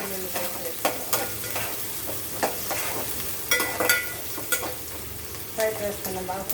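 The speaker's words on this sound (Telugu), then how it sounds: "ఫ్రై చేసుకున్నాం, బాగా ఫ్రై అవ్వాలి." Pieces of mutton fry in a pan for curry with salt and turmeric, giving a steady, close sizzle broken by repeated scraping stirs of a spoon against the pan.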